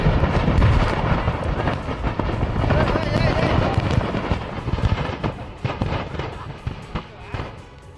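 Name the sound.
explosions at a firecracker factory fire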